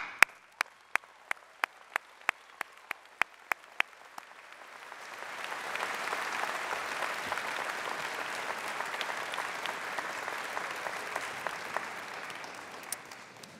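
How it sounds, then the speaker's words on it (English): At a University of Waterloo June 2014 convocation ceremony, a few sharp claps ring out at first, then the audience breaks into broad, sustained applause that swells and holds before slowly tapering off. "I think we owe this wonderful class a big round of applause"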